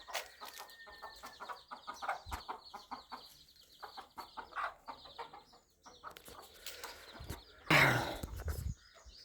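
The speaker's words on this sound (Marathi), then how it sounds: "काळी कोंबडी आणि ब्राऊन कोंबडा." A black hen and a brown rooster cluck close by in a run of short, uneven calls, with a louder burst of squawking near the end. The scene is otherwise quiet.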